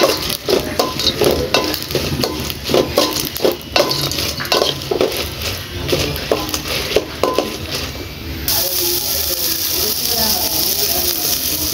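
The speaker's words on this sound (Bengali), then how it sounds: "এখানে আমি কিছু শুকনো মরিচ ভেজে নিব।" Dried red chillies frying in a pan, with rhythmic spatula scrapes and clinks against metal over a low sizzle for most of the stretch, then a steadier, brighter hiss toward the end.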